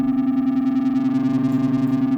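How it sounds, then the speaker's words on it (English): A distortion unit in music production software grinds a sustained tone into a harsh, buzzy, fuzzed-out drone with a fast pulsing flutter, loud and continuous with no voice over it. "We also have a nice distortion unit here, which is capable of really destroying the sound."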